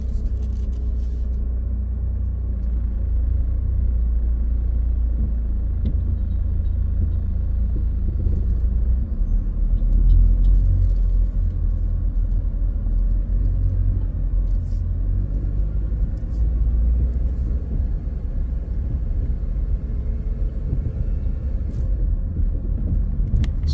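Car driving through evening traffic on the streets of George Town, Cayman Islands, heard from inside as a steady low road rumble and engine drone that swells slightly midway.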